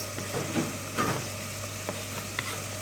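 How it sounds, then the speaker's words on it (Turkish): Onions sautéing with meat in a pan for an okra and chickpea stew, a soft steady sizzle broken by a few stirring scrapes and clicks, no talking. "Soğanlarımızı da kavuruyoruz."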